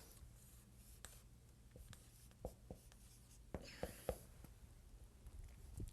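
Marker or pen writing on a board, faint scratchy strokes and taps in an irregular rhythm over a quiet room hum.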